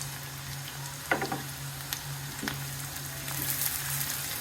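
Chopped onions frying in oil with salt and sliced green chilies for a rohu fish curry with bean seeds: a soft, steady sizzle with a few brief stirring clicks over a low constant hum, no talking.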